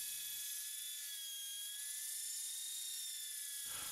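A steady, high-pitched mechanical whine runs continuously from a buffing wheel polishing a guitar body's finish, with a brief change in tone at the start and end.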